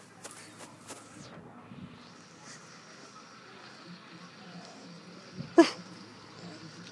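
A dog gives an odd non-barking noise, a short nasal snort or sneeze-like burst standing out from a quiet room, with a few faint earlier taps and rustles.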